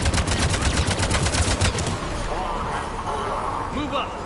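Rapid bursts of mounted-gun fire in Mass Effect 3, a dense rattling volley for about two seconds, loud and close, then tapering into scattered impacts and softer background battle noise.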